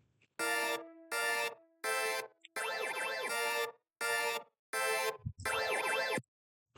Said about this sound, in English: the last sound that I grabbed is these more like stabby chords,